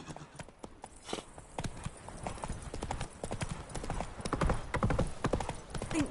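Horse hooves clip-clopping in The Witcher 3, a steady rhythmic trot of close, clear hoofbeats running throughout with a faint neigh and ambient game sounds beneath.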